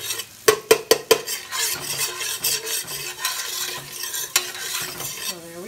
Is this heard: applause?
no